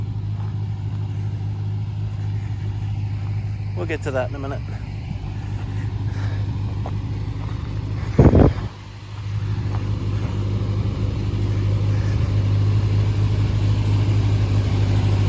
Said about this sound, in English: If you adjust the carbs out, it's idling pretty good.